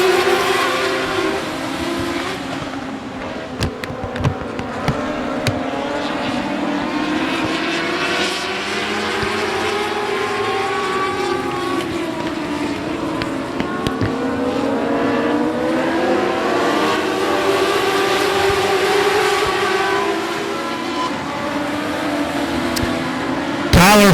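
Dwarf cars racing at I-37 Speedway after the green flag, a dense field of engines roaring continuously at full throttle, with revs rising and falling as the pack passes around the oval.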